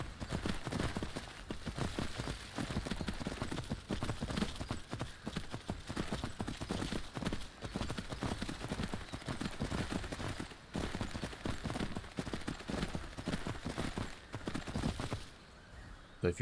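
Hooves of a ridden horse clip-clop steadily in the video game Skyrim, a continuous rapid rhythm of thudding steps that carries on without pause until the very end.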